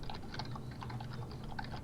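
Fast, loud typing on a computer keyboard: a dense, continuous run of close key clicks and clacks with no pauses and no voices.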